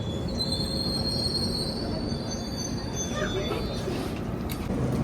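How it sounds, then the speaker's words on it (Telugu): A passenger train pulling out of a station rumbles steadily while its wheels squeal on the rails in a long, high screech, loud and close throughout. "చీమిడిపల్లి నుంచి మన ట్రైన్ స్టార్ట్ అయిపోయింది"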